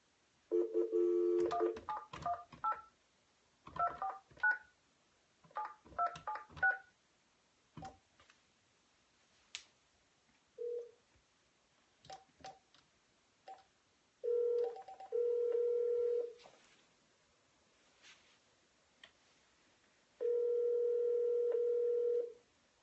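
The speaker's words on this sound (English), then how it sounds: "Can you guys hear the phone ringing?" Telephone keypad tones beeping in quick bursts as a number is dialed, followed by steady ringback tones repeating at intervals on a call to a sales prospect, heard close and clear with no talking.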